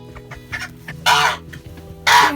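Chickens clucking in a coop during a winter blizzard, with soft scattered clucks building to two loud, close bursts of squawking.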